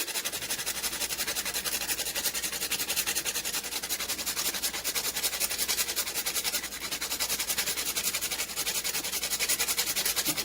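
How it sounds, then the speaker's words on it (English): Nutmeg grated by hand over a bowl of Jamaican sweet potato pudding mix: a fast, steady, close rasping scrape that runs without a break for about ten seconds, with no talking. "I'm grating some nutmeg inside."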